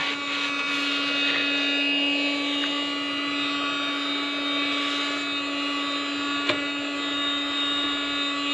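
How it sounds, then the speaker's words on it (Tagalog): A vacuum cleaner runs continuously while dirty parts of a Carrier Optima air conditioner are cleaned, a steady whining hum with faint brief clicks and bumps over it. "Vacuum lang natin ang mga part na marumi."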